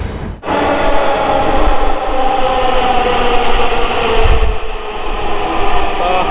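A Dhaka MetroRail train rumbles steadily into an elevated station, loud and close, with a continuous rolling roar and faint rail clatter.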